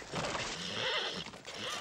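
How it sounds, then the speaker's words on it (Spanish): A horse neighs and whinnies loudly and close by for nearly two seconds, with a brief dip before a final burst, heard on a ranch where horses are being broken, with no talk over it. "Tranquilo, caballo."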